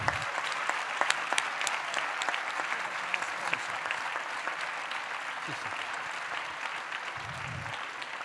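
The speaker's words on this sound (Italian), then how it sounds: "Di nuovo un grande applauso per i nostri relatori." A round of applause for the speakers at a roundtable event, steady and moderately distant, continuing throughout with scattered sharper claps standing out from the crowd.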